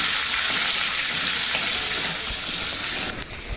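Eggs fry with turmeric in a hot pan, giving a steady, close, loud sizzling hiss that runs unbroken and tapers slightly at the end, with no voices.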